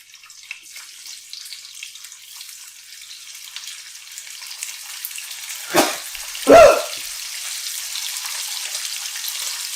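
Bacon sizzling in old bacon grease for a weekend breakfast, a soft steady crackle throughout, broken by two louder bursts of sizzle or splatter near the end.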